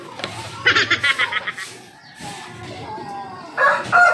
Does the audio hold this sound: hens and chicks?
yes